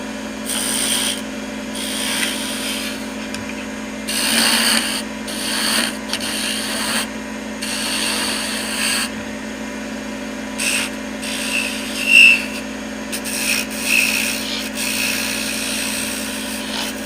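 Wooden candle being shaped on a lathe with a skew chisel, repeated rasping cuts in short bursts over the steady whine of the spinning lathe, close and fairly loud with no talk.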